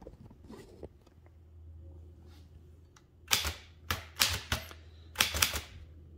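Keys strike in quick bursts on a Dankers manual typewriter, loud sharp clacks in three clusters after a quiet start with faint handling noise, no talking.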